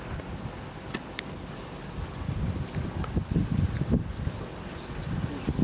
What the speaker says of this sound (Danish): Vind. En brise. Det blæser.